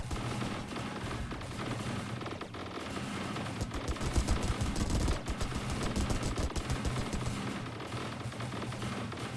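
A space fleet battle in Star Drive with mods, its cannons firing in continuous rapid volleys, a dense crackling barrage that swells and fades over several seconds with heavy low thuds mixed in.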